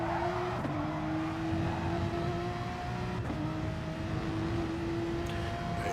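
A race car engine in a racing video game, a Porsche 991, drones at a steady high pitch, sits briefly back and then resumes the same pitch, under a constant whirring background with no talking.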